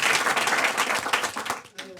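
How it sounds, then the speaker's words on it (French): A crowd applauds loudly and continuously after a startup pitch at a French tech event, the clapping thinning out toward the end. "Allez, on l'applaudit."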